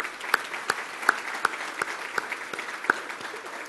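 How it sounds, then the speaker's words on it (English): Scattered, evenly spaced claps ring out in a banquet hall as an audience applauds a hotel staff after dinner, fairly faint and slightly reverberant, steady for a few seconds. "Please give them a round of applause."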